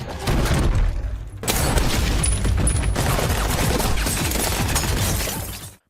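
Dense gunfire in a John Wick movie scene inside a hotel, hitmen bursting in and trading shots, a continuous loud fusillade with crashing and shattering debris layered over a booming soundtrack.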